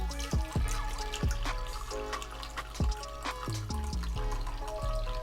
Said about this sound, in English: you just fill it with water.